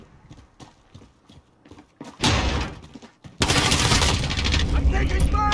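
Gunfire in a Modern Warfare free-for-all match: a quiet stretch of light taps gives way to two loud bursts of close, dense shooting that fill the rest of the moment.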